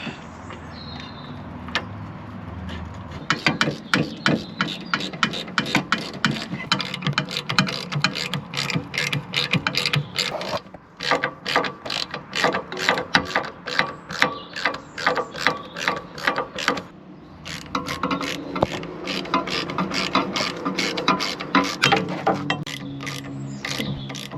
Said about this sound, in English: So we'll just get this hub in line and tightened up.